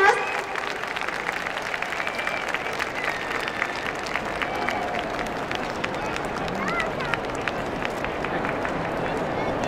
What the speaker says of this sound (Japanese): 皆様、今一度大きな拍手をお願いいたします